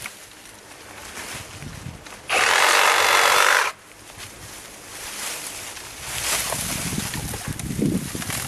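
A tractor-driven wood chipper chews through deadwood, a loud burst of grinding and shredding that cuts off abruptly, set between lower mechanical rumbling and clattering.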